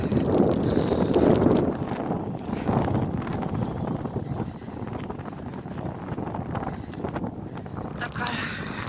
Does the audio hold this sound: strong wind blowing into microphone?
yes